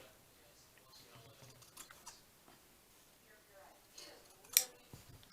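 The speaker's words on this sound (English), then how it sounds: "See if I can cut." Scissors cutting paper while making a craft tag, quiet snipping and crisp rustling close by, with one sharper snip near the end and soft talk in the background.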